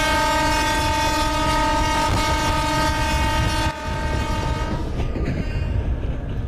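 Sealdah-Dankuni EMU local train accelerating in the MSTS Open Rails simulator, a loud steady electric motor whine with rising tonal hum over continuous rolling rail noise, the pitch shifting near the end.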